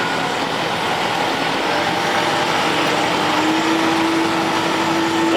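A new tractor's engine runs at low throttle in second gear, creeping along while pulling a feeder wagon, a steady loud rumbling drone with a rising whine near the end and no talk.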